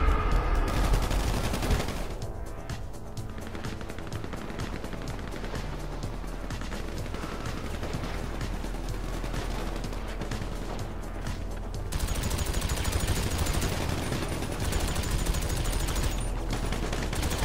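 Sustained automatic machine gun fire in a GTA 5 team deathmatch, loud and continuous with dense overlapping shots, intensifying again toward the end amid other game noise.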